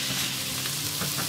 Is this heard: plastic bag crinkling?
no